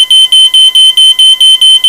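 A smoke detector sounds at a fire department open house as smoke fills a demonstration room: loud, piercing electronic beeps repeating in a fast, even rhythm, about four per second, with nothing else audible.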